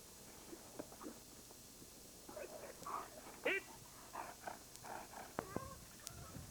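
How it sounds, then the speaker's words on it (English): Eight-week-old Malinois puppies whimper and give small growls close by, a scattered run of soft yelps and squeaks over quiet background rustling. "8-week-old Malinois puppies."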